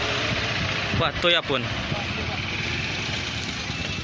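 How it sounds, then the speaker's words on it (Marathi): A tow truck's engine runs while pulling a crashed Innova car out after a road accident, a steady low rumble with a brief louder surge, heard under someone talking and a gathered crowd. "टोचेनही आलेलं आहे गाडी ओढून काढण्यासाठी"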